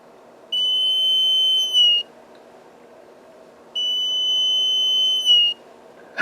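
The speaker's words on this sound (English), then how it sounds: "now it sounds like the Star Trek intercom whistle" A homemade laser security alarm built from a solar garden light, with a 1000 µF capacitor, emits two high whistling electronic tones, each lasting about 1.5 seconds and ending in a slight upward chirp, separated by a pause.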